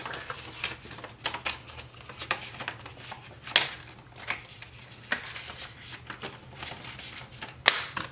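Paper cash bills are counted, riffled and tucked into an envelope at close range, making a series of crisp, uneven rustles and flicks over a faint low hum.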